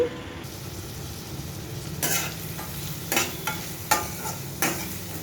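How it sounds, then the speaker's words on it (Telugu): Onion pieces fry in oil in a kadai for a sea fish pulusu with a soft, steady sizzle. Several sharp bursts of crackling and stirring scrapes come at intervals. "కళాయిలో ఆయిల్ పోసుకొని ఉల్లిపాయ ముక్కలు అందులో వేసుకోవాలి"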